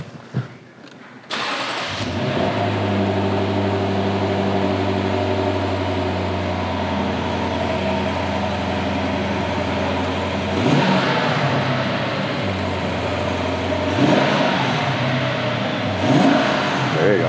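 A 2022 Lexus IS 500 starts up with a sharp whirring crank and catch, settles into a low burbling idle, then gives a few separate throttle blips that rise and fall in quick revving bursts.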